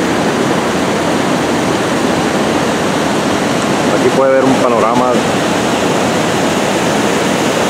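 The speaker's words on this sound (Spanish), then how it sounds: "La presa Chubisca derramando." Water pours steadily over the wall of the Chuviscar dam, the city's oldest, after heavy rain, a constant broadband roar under someone speaking briefly.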